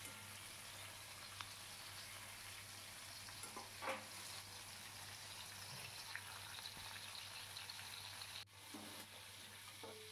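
Prawns fry in a pan with a soft, steady sizzle over a low constant hum, punctuated by occasional stirring scrapes and clinks.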